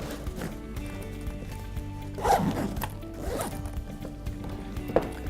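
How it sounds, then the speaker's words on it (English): A zipper drawn open along the front compartment of an eBags wheeled carry-on bag, close and fairly quiet, with a few rubbing and handling noises. "Unzip this front compartment and simply fold this inside this front pocket."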